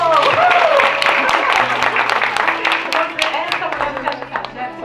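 An audience at a community campaign gathering gives a sustained round of clapping for a man called up to help, with sharp hand claps running under ongoing talk.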